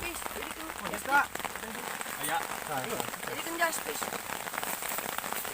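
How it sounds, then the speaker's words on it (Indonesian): Rain falls steadily over a mountain hiking trail on Mount Cikuray, a dense hiss of drops on surfaces, while people talk nearby throughout. "perjalanan kami terhalang oleh hujan yang tiba-tiba turun"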